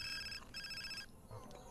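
A telephone rings in the video game The Sims 4, with two bright electronic ring bursts in quick succession, followed by softer in-game tones.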